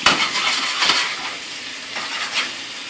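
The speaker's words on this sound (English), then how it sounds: "So, potatoes are cooking." Potatoes sizzle in a non-stick pan, a close, continuous frying hiss with a few stirring scrapes rising and falling.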